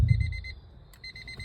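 Rapid electronic beeps from a Honda Civic pulse in quick bursts, pausing briefly before resuming, high-pitched and steady over a low background hum.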